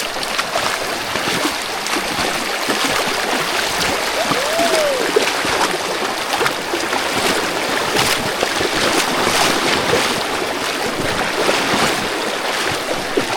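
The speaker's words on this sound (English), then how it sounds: "Oh, the boat is now leaving." A boat pulls away on a swollen, high-water river amid a loud, continuous wash of rushing water and hull noise, close and steady throughout with no talk.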